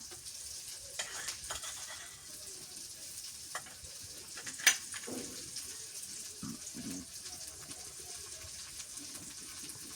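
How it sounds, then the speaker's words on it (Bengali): Chili with onion and garlic paste frying in a pan for a winter vegetable dish, giving a steady close sizzle with occasional stirring scrapes and clinks. "মরিচ দিয়ে দিলাম পেঁয়াজ রসুন বাটা"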